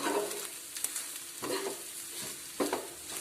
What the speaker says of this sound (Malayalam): നമ്മുടെ അവില് അതിനകത്തോട്ട് ചേർത്ത് കൊടുക്കുക. നല്ലതുപോലെ ഒന്ന് ഇളക്കി യോജിപ്പിക്കുക.